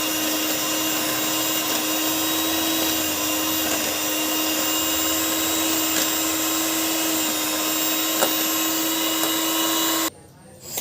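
Whipping cream beaten by an electric mixer, a loud steady whirring motor hum running nearly unbroken for about ten seconds before cutting off abruptly.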